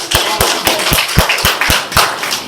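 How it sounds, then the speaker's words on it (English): A single person claps in an even, brisk rhythm, about ten sharp slaps close by and fairly loud, with no crowd swell behind them. "let's all give Earl a big round of applause"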